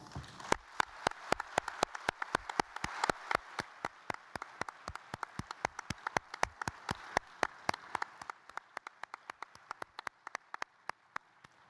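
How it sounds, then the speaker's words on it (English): Sparse, thinning applause at an awards and honors ceremony for recipients, distinct individual claps spaced out and fairly faint, fading slightly toward the end with no talking. "Please join me in a final round of applause."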